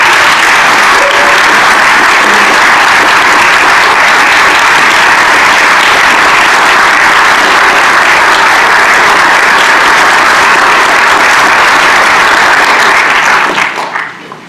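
Sustained, loud applause from a church congregation fills the whole span without pause, dense clapping that fades out in the last second.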